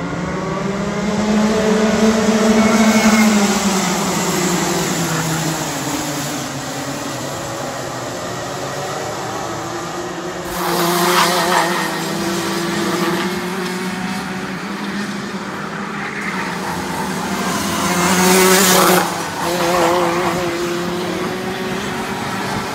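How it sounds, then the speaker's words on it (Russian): Rotax Max class racing karts at a track in Ulyanovsk, their two-stroke engines droning steadily at a distance, with louder passes swelling up as karts come by. "это гонки, это спортивный картинг класса Rotax Max"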